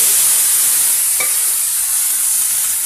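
Peanuts (ghuni) sizzle as they fry in oil with tempering spices, making a steady bright hiss with one soft stir or clink partway through.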